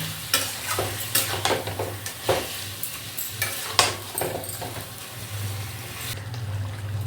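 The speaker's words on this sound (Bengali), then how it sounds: "এটা আমি এবারে মশলার সঙ্গে চিকেনটা কষতে থাকবো।" Chicken with spices being stirred and sautéed in a pan for Bengali rezala: a low steady sizzle with repeated scraping strokes of a spatula against the pan, close and fairly loud, with no talk.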